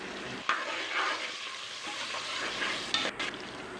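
Steady sizzling in a hot pan as onions, coriander and mint are sautéed for vegetable biryani, with occasional stirring clinks; continuous and close, no talking.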